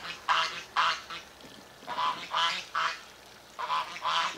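Geese honk repeatedly in short, loud bursts, several calls in quick pairs with brief pauses between, fairly close.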